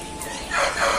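An Aseel chicken on a farm gives a brief, loud call that rises and holds for under a second, with no one talking over it.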